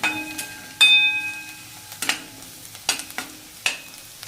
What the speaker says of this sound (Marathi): खोबरं लसूण कांदा असं एकत्र करायचं आपल्याला